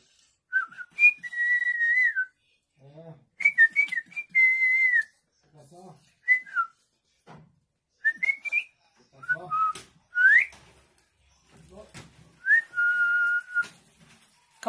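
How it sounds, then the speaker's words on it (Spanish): Several people whistle in short melodic phrases with pauses between them, during a playful children's class activity; a few brief low vocal sounds are mixed in, but there is no clear talk. "¿Cómo le chiflamos al abuelo?"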